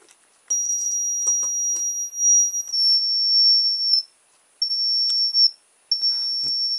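A reverse parking beeper wired to an external battery emits a loud, close, steady high-pitched tone that cuts out twice for brief gaps before resuming, with no voices.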